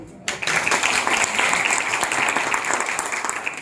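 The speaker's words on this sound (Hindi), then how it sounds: "तालियां बजाना।" Audience applause at a Hindi poetry recital, a dense wash of clapping that starts abruptly after a brief quiet moment and holds steady and loud to the end.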